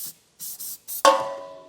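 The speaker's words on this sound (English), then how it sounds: "I got some silicone spray that I'm gonna spray in there as well to help get some of that gunk out of there." Silicone spray hisses in several short bursts into rusted weld nuts on a 2016 GMC Terrain, ending with a metallic clank that rings and fades.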